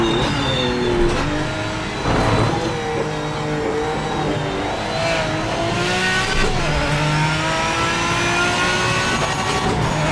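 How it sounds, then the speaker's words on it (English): A car engine revs hard against the rev limiter, a loud, rising and falling high-pitched whine with stuttering bounces at the top, continuous throughout with no voices. "Get off the rev limiter, dude."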